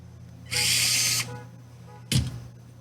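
A power drill runs for a sustained whine of about a second, then gives a short second burst, while screws are driven during assembly of an INJORA IR60 pickup RC model; the burst sounds close and loud.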